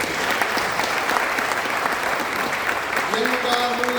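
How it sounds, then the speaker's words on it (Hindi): Audience applause at a Hindi-Urdu comedy poetry gathering (kavi sammelan), steady dense clapping from a large crowd throughout, with a faint voice near the end. "बहुत मोहब्बत की आपने पद्मिनी को, मेरे कहने से भी एक बार तालियां बजा दो उससे।"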